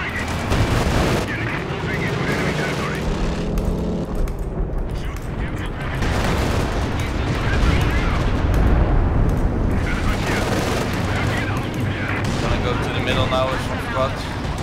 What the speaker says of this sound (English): Spooker will bomb the target.